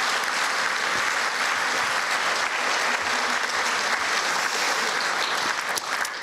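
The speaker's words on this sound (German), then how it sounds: "Applaus" Audience applause during a political party speech in a hall, a dense, loud, sustained clapping that continues for several seconds without speech.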